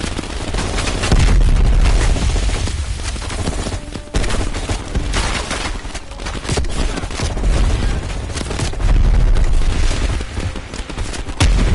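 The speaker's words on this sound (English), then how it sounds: "You readied a grenade launcher and charged it." Grenade launcher fire in Call of Duty: Black Ops Cold War, with repeated heavy blasts and crackling gunfire packed densely together, loud and close, with several stronger booming hits standing out through the sustained barrage.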